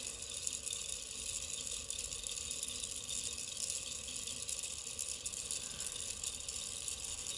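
An electric clay bead spinner runs with a faint, even mechanical whir and fine rattling clatter that holds steady throughout, with no speech.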